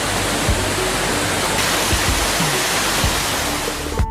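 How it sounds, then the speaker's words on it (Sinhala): Siripath waterfall in Sri Lanka pours as a silvery stream over a broad rock slab, a loud, continuous rushing roar with occasional low thuds. "මහ ගල්තලාවක් මතින් රිදී දිය ධාරාවක් ලෙස ගලා බසිනා සිරිපත් ඇල්ල"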